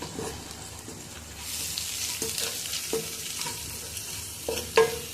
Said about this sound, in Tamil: ஒரு முக்கால் டீஸ்பூன் ஜீரகத்தூள் போட்டுக்கணும் போட்டுக்கிட்டு இதையும் எண்ணெயில் நல்லா வறுத்துக்கணும்